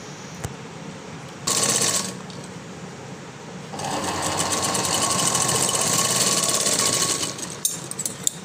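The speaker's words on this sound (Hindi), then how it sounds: "अब हम इस पर डबल सिलाई लगा लेंगे।" A sewing machine stitching a floral frock runs in short bursts: a brief spurt, a pause, then a longer steady run of rapid needle clatter, ending with a few small clicks.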